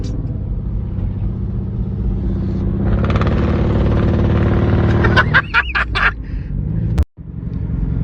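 A cheap $400 car's engine runs rough and loud with a steady low rumble, then breaks into a rapid string of sharp pops like machine-gun fire before a brief cutout and restart of the rumble.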